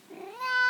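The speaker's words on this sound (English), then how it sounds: "you can hear my crying cat again" A house cat cries with one drawn-out, rising meow, close and clear in a quiet room.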